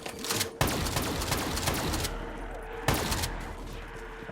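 KRM shotgun blasts in a first-person shooter game, two sharp loud reports about two seconds apart, each followed by a rattling tail, amid dense ongoing gunfire and clatter.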